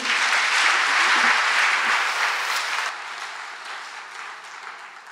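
An audience gives a hand of applause to the Vice Chancellor of Makerere University at a church gathering with the archbishop, a dense, loud burst of clapping that thins and fades through the second half.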